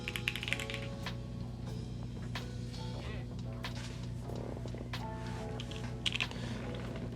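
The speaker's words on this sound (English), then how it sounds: "All right, let's do an actual typing test." A Quarkeys Z67 keyboard with Gateron KS-9 switches and a carbon fiber plate, being typed on in a steady stream of fairly quiet keystrokes over a constant low electrical hum.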